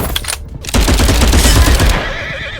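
Rapid gunfire from the mobile war game Glory Front Line, a loud burst of machine-gun-like shots rattling continuously for over a second after a brief lead-in, with dense battle noise and no talking.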